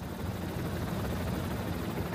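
A tour helicopter flying near the Hollywood Sign in Los Angeles gives a steady, loud, low rotor drone that holds without a break from start to finish.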